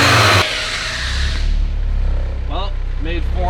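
A rear-wheel-drive Honda Civic engine during a dyno pull, with a loud close roar that cuts off abruptly, then a lower rumbling idle and drone underneath, while a voice briefly speaks over it near the end.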